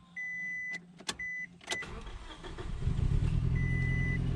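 A manual-transmission car is cranked with the clutch pedal held down: a couple of brief starter whirs and stutters come first, then the engine catches and settles into a steady, loud idle rumble close by.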